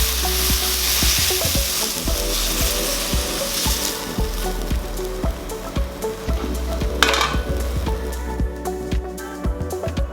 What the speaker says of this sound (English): we will stir fry these once again with everything mixed together